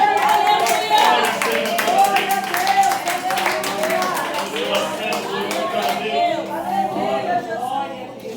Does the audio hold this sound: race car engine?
no